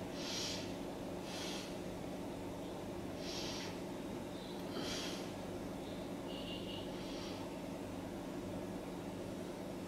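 Deep breaths drawn slowly during a yoga pose, a few soft rhythmic airy inhales and exhales over a steady background hum, close and fairly quiet.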